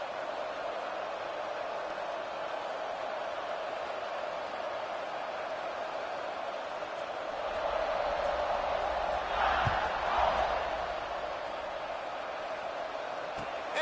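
A stadium crowd in College Football 26 keeps up a continuous roar at kickoff after a touchdown drive, swelling louder for a few seconds midway with a thud before settling back.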